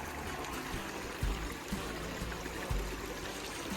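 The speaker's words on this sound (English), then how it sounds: "these nice little waterfalls in the creek are just very nice" Small waterfalls trickling and splashing in a woodland creek, a steady close babble of running water with occasional soft low thumps, no voices.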